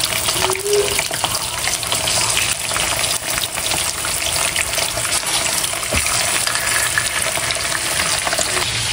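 Fish frying in hot oil, a steady, dense crackling sizzle that continues close up for the whole stretch with no one speaking.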